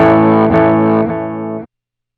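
An electric guitar chord rings out through a ZOOM G1 X FOUR multi-effects processor's delay with trails off, then cuts off abruptly with no echoes trailing afterward.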